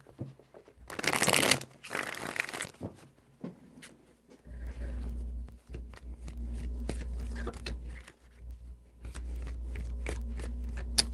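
Tarot cards shuffled by hand in a loud, crisp riffling burst, followed by several quieter bursts of card handling over a low hum, with no talking.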